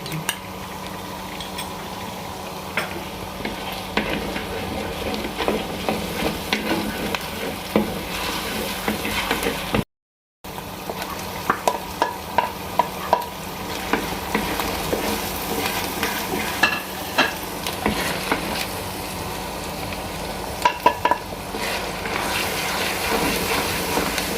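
A dense, steady sizzle of garlic, ginger, green chillies and spice masala frying in a hot pan, with repeated scraping and stirring knocks throughout and a brief silent gap midway.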